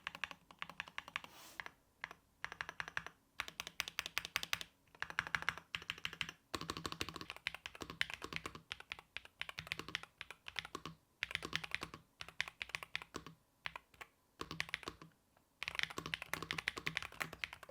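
Bursts of fast typing on a Nuphy 75 HE mechanical gaming keyboard, crisp clicky keystrokes in runs separated by short pauses, close up.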